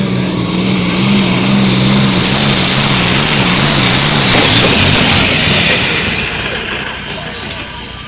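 A modified pulling tractor with 1500 hp petrol engines starts a pull at a tractor pulling event, a loud, dense engine roar with a wavering drone, while an announcer speaks over it.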